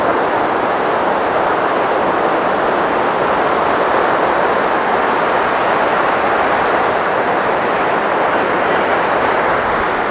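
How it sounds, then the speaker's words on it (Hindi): Floodwater surges past the Tapkeshwar temple in Dehradun, a steady, loud, broadband roar that holds unbroken throughout with no pauses or voices. "क्या ही पानी बह के आ रहा है।"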